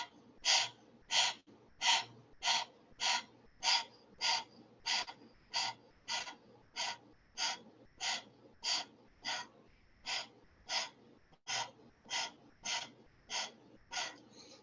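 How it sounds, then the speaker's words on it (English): Rapid breath-of-fire yoga breathing through the mouth, about twenty sharp, evenly spaced panting exhalations in a steady rhythm, close and moderately loud, with no talk. "we're going to do breath of fire for 45 seconds through your mouth"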